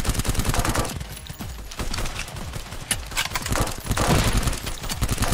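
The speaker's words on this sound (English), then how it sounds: "I do like this machine gun." Rapid machine gun bursts from the VR shooter Silicon Rising, dense overlapping gunfire and explosions filling the whole stretch loudly and continuously, with no talking.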